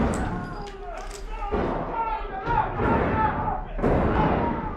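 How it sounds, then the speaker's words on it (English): A rapid burst of gunshots and heavy thuds from a TV show rings out, mixed with voices talking over the noise. "That is a lot of fucking gunshots."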